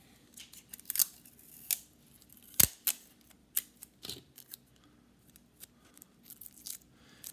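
Adhesive tape pulled and torn in short bursts while sticking down paper eyes on a craft octopus, a series of sharp, close rips and crackles separated by brief pauses, with no voices.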